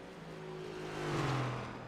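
Race car engine in a sim racing game at Watkins Glen International, a quiet droning whine that swells and bends in pitch midway as the car runs off turn 12, with no talk over it.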